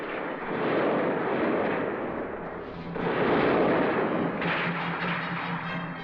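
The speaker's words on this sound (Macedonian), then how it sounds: "Пак пука, дедо" Gunfire and artillery in a 1969 war film, a dense, continuous roar of shooting and blasts with two swelling waves, loud and close, and no talk.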